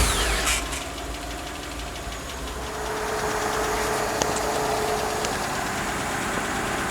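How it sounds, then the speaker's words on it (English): Hyundai car engine after a power steering cooler return line replacement, cranking briefly and then settling into a steady, close idle with a faint knock-like rattle, no talk. "We'll go ahead and start the car."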